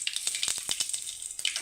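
Dried red chillies fry in hot oil with mustard seeds in a pan, giving a steady crackling sizzle with small pops, close and fairly quiet, with no talk.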